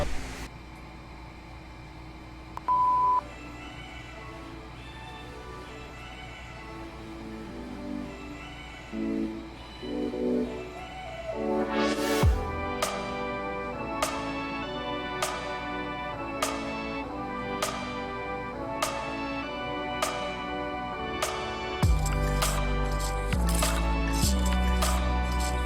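A classroom activity countdown timer runs for thirty seconds, starting with soft ticks and beeps, then regular chiming tones that repeat at an even pace before a loud fuller sound arrives near the end.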